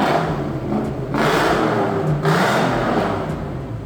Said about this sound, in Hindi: लेकिन अगर आप कट ऑफ को ऑन करें तो फिर वो जो हवा होती है वो डाइवर्ट हो जाती है इन लाउड वाले एग्जॉस्ट पे, और फिर ये गाड़ी अच्छी खासी लाउड हो जाती है